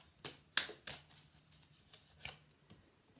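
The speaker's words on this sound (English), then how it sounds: "I'm going to pull some yes/no type fortune-telling cards." Fortune-telling cards being shuffled, heard as a few soft, quick papery snaps and riffles spaced over a few seconds, close but quiet, with no one talking.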